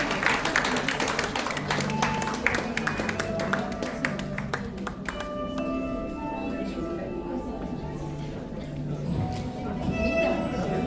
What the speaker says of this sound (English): Now let's put your hands together, cheer him up.